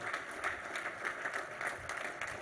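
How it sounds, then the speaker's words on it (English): Faint, steady applause from an audience at an athletics Hall of Fame ceremony, heard at a distance and lasting briefly. "A round of applause, please, for Thorpe Ashoff"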